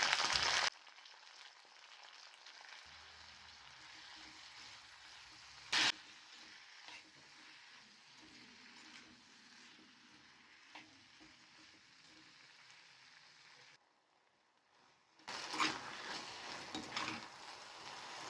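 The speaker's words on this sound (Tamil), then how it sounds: "அதோட 3 தக்காளி நறுக்கி வச்சுருக்கேன் சேர்த்து நல்லா வதக்கிக்கலாம்" Onions and tomatoes sauté with a soft, steady sizzle in a pan for a sardine curry, broken by a brief scraping stir and a short quiet pause.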